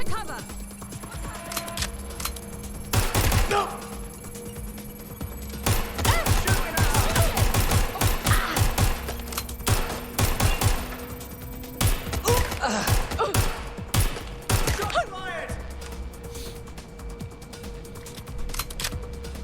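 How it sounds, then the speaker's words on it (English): Bursts of rapid gunfire ring out in the video game Watch Dogs: Legion, loud clustered volleys with short pauses between them, mixed with thumps and mechanical clicks, while a player talks over the action. "Is it just me या guns की आवाज weird है?"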